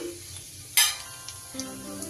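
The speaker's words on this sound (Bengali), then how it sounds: "তেলে একটু জিরে ফোড়ন দিয়ে দিলাম" Cumin seeds hit hot oil in a wok with a sudden sharp sizzle that flares loudly, then settles into a quieter crackle with a faint stir or two, no voices.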